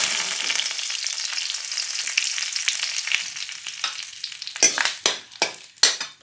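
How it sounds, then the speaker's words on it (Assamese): Curry leaves dropped into hot oil in a home kitchen, cooking chicken with pumpkin. A dense, close, crackling sizzle hisses steadily, then breaks into a few sharp spluttering pops near the end. "এয়া তেল গৰম হ'ল, এতিয়া মই নৰসিংহ পাত কেইটামান প্ৰথম"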